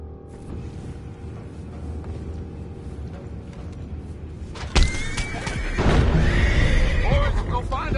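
Horses neigh and whinny loudly at close range, a sharp burst of whinnying followed by continued snorting and shuffling over a steady rumbling background.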